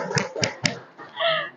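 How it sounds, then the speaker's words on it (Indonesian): A classroom of children clapping hands: three quick, sharp claps in a rhythmic burst, followed by a brief voiced sound. "Tepuk tangan untuk kita semuanya."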